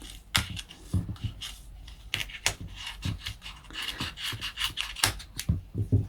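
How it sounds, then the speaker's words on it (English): Scissors snip through a seed bead thread tassel, a string of crisp cuts and rustling handling close by, with no talking. "So now it's time to cut the tassel."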